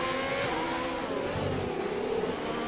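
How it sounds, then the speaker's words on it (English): Formula E-style race car powering through lower gears on a wet British track, a continuous loud electric-motor whine with rising and falling pitch sweeps, steady and close with faint road rumble beneath. "Bascombe really revving his engine out here in the lower gears"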